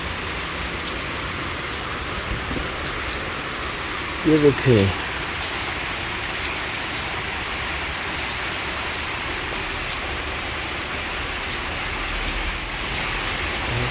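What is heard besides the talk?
heavy rain falling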